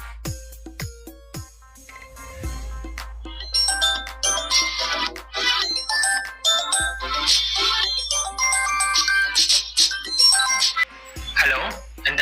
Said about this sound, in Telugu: అలా మెల్లిగా పెట్రోల్ వేయించుకుందామని వెళ్తుంటే కస్టమర్ నుంచి కాల్ వచ్చింది